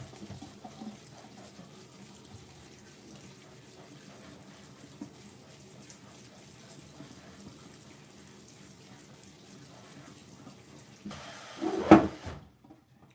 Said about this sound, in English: let's give this a little rinse here